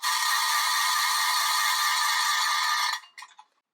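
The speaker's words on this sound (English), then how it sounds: "The one that has the wooden handle and a steel crank in the middle of it sounds like" A vintage Halloween noisemaker with a wooden handle and steel crank gives one loud, steady, smooth ratcheting whir for about three seconds, then trails off into a few fading clicks.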